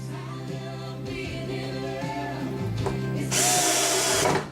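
A power drill drives screws into holes in the wood of an RC revolver ARF model build. The motor whines in several close runs that rise and dip, then ends with a louder, harsher burst before stopping.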